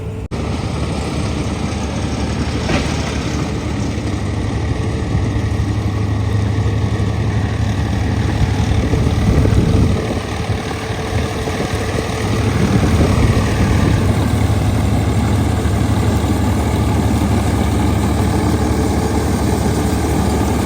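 A Swaraj 855 tractor running a straw reaper in fourth low gear runs steadily and loudly throughout, a deep continuous rumble with slight shifts in load partway through and no speech.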